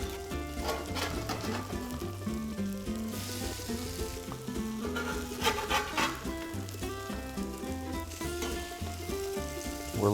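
Italian potato pancakes fry in a pan with a continuous close sizzle and crackle of hot oil, broken by occasional scrapes and bursts as they are turned. No one speaks.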